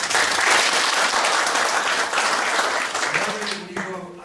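An audience applauds a guest at a formal gathering with dense, sustained clapping that tapers slightly toward the end as a voice begins speaking over it.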